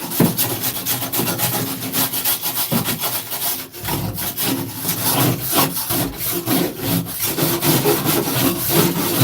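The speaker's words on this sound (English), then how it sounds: "Let me get my wire brush so I can clean that up" Wire brush scrubbing a panel on a 1984 Buick Regal during sound-deadener prep, a loud, continuous rasping back-and-forth scraping with rapid strokes and brief pauses, heard up close with no talking.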